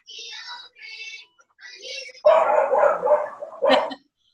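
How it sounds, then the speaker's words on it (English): A dog barks and whines in short bursts near the end, loud and close, after soft breathy human voices. "the dog has a question"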